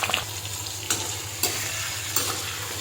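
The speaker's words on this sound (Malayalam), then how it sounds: "ഇത് ഇവിടെ കിടന്ന് നല്ലപോലെ ഫ്രൈ ആവട്ടെ." Bitter gourd sizzles steadily in hot oil with salt and turmeric over medium-low flame, with a few soft stirring scrapes and no talking.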